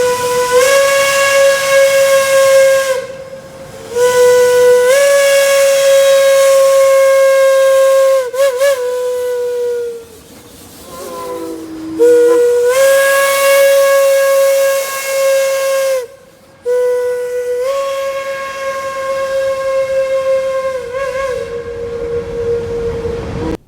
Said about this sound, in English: I'll play an audio clip of a similar whistle at 200 psi